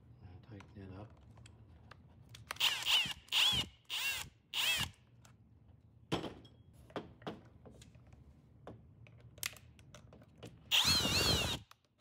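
A power drill tightens windscreen bolts on a 2020 Husqvarna 701 Enduro LR in short close bursts, several quick runs in a row and one more a little later, with quiet ticking and handling noises between them.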